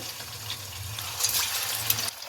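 Marinated fish is laid skin-side up into hot oil in a kadai, giving a steady hiss and sizzle that swells briefly near the end, with no talking.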